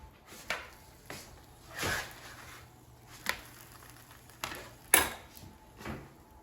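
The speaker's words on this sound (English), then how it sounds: "And now let's flip the pancakes." Swedish pancakes being flipped in a pan: a handful of separate clinks and scrapes of a utensil against metal, spaced out over several seconds, close and fairly quiet.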